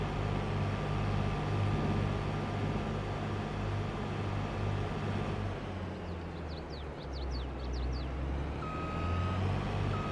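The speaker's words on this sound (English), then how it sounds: "Reverse beep sounds." Reversing beeps from a vehicle in Farming Simulator 22: a short run of rapid, evenly spaced high beeps sounding over a steady, loud engine drone, with no talking.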